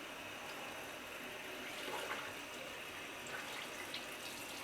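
Tap water running steadily into a sink over a Real Techniques makeup sponge, a faint, continuous hiss and splash with slight fluctuations and no talking.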